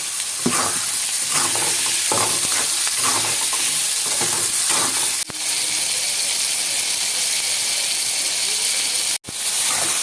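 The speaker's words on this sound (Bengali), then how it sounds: "হালকা হালকাই ভাজবো। এবারে চিড়ে রেখেছি টমেটোগুলো, ওগুলো দিয়ে দেবো।" Tomatoes fry and sizzle in a pan for fish curry, with repeated scraping stirs of a spatula over a steady close hiss and two abrupt sharp clicks; no talking.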